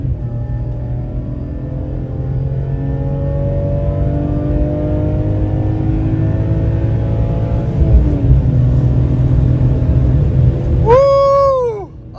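A BMW E46 M3 engine drones steadily while driving, loud and close, then climbs sharply in a rev near the end before dropping off.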